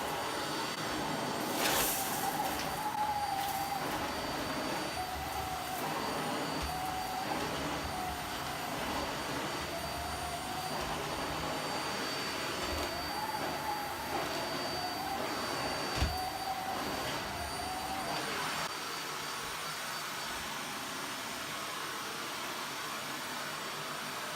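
A Dyson Ball Animal 2 upright vacuum cleaner runs with its brush bar turning as it cleans porridge and cookies off a rug, giving a loud, steady whirring drone throughout with no talking.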